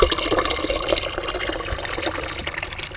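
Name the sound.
bucket filling up with water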